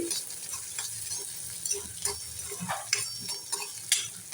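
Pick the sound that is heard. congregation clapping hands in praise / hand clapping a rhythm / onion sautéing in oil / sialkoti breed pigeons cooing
onion sautéing in oil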